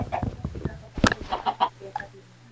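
Chicken clucking in Minecraft: a series of short, uneven clucks and squawks over a faint low hum, with one sharper, louder squawk in the middle.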